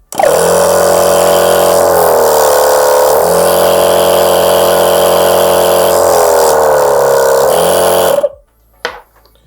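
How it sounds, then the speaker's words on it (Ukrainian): Vitol Vulkan 12-volt car air compressor running continuously, a loud buzzing motor drone with a steady pulsing pitch that dips twice, then cuts off abruptly near the end. "І давайте послухаємо, як буде працювати компресор."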